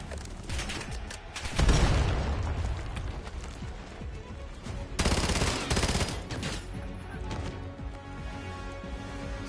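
Bursts of gunfire and booming grenade blasts erupt in a Call of Duty Black Ops 7 campaign mission, two loud explosive surges standing out over a busy, crackling battle backdrop.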